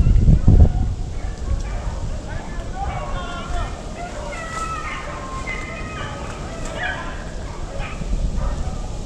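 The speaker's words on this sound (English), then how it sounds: "quit all that goddamn in-house barking" A rabbit-hunting dog barks, yips and whimpers repeatedly over about nine seconds, mid-distance over steady background noise, with a heavy thump at the start.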